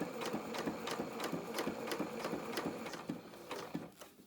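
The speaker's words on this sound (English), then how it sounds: "This is sewing in real time as well, so you can see how fast I go as well, and take it nice and steady." A sewing machine stitches a vinyl-fronted fabric project bag with tape at the edges, running in steady, rapid bursts with evenly spaced needle clatter, close and alone, slowing briefly near the end.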